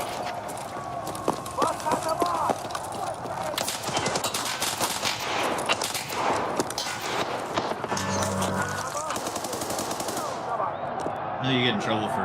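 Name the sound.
gunfire in a first-person shooter video game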